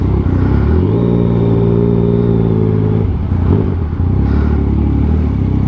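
A motorcycle engine runs loud and close for the whole stretch, holding a steady droning pitch and then shifting as it is ridden, with a faint whine over the rumble.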